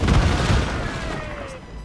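Ship cannons boom in a naval battle in Assassin's Creed Rogue, a heavy loud blast at the start followed by a rumbling decay and a faint whistling tail, with shouted orders in the background.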